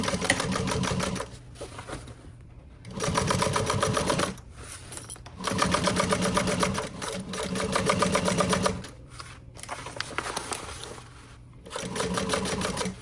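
A sewing machine stitches the side seam of a vinyl pool tote in several separate runs, each a few seconds long, with short pauses between them.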